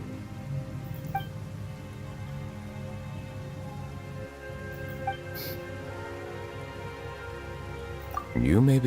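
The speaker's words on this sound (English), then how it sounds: "Why is it raining all of a sudden?" Steady rain falls in the Genshin Impact game world, a soft continuous patter with scattered drip-like taps under a low game drone, and a louder swell of sound near the end.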